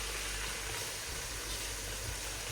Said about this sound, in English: let it fry for about 5 minutes on a medium heat